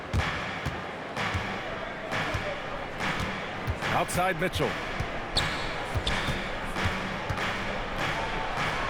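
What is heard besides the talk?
basketball bouncing in NBA 2K26 video game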